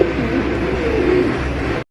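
Racer pigeons of the choco grizzle type cooing in a loft, a steady low murmur of coos that carries on without a break for nearly two seconds.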